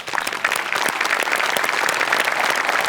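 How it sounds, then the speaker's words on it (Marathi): Audience applause at a Marathi comedy stage show, a dense, steady wash of clapping that holds loud and unbroken throughout, with no talk over it. "मला सगळ्यात आधी टाळ्या वाजवायच्या त्या आपल्या मेकअप डिपार्टमेंटसाठी"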